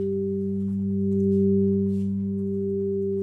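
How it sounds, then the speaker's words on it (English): A pure sine wave tone run through a flanger effect, sustained and loud, with a slow sweeping swell in the middle as the comb filtering shifts. "this is what our sine wave sounds like with the flanger."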